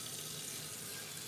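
Tap water runs into a pot for boiling eggs in a kitchen, a steady broadband hiss with no break through the short clip, moderately loud. No voices.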